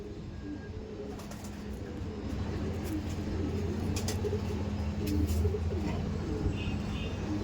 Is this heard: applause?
no